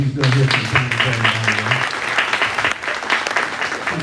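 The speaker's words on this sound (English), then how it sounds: "y'all give Stephen a round of applause for everything he's done here for the county." Audience at a Dorchester County GOP political gathering applauds steadily and fairly loudly for about four seconds, a dense wash of clapping, with a voice speaking over the first half.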